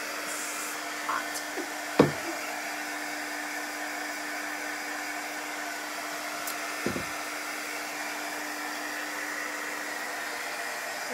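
A heat tool drying chalk paste gives a steady, even blowing hum throughout, with a couple of brief knocks over it and no talk.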